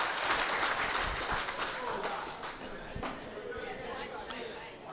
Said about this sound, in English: Round of applause for all of the contestants.